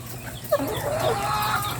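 Laying hens on a farm, recovering from calcium deficiency and back to producing eggs, cluck and call in a short close burst over a steady low background hum, with overlapping bird voices.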